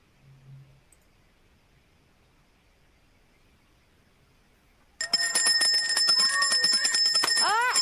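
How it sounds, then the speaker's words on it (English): A bell rings out in a preschool classroom for 3-to-5-year-olds, starting suddenly after a quiet stretch and sounding continuously with bright, shimmering metallic tones that hold loud until the end. "keep your eye on the bell, actually not on the ball, but on the bell"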